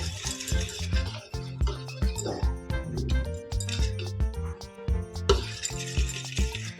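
Egg bhurji ingredients being mixed in a bowl, with repeated clinking of a utensil against the bowl in a steady stirring rhythm, close and moderately loud, with some talk over it.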